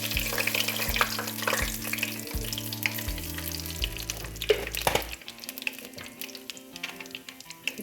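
Cinnamon and cloves fry in hot sesame oil with a bright, close crackling sizzle, busy at first and then dying down and thinning out toward the end.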